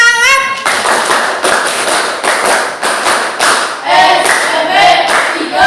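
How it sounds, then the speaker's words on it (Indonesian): A junior high school class does a rhythmic spirit clap, loud patterned bursts of hand claps and slaps in quick sequences, with students chanting in unison between and over the beats. "sebelum mempresentasikan kita ekspresi dulu. Ya, tepuk semangat"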